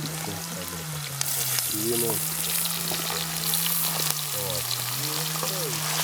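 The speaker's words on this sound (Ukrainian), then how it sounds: "Смачно шкварчить." Steady sizzling and crackling of potatoes, onion, meat and kabanos sausages frying in a hot pan outdoors by a lake, with occasional voices talking over it and a low hum underneath.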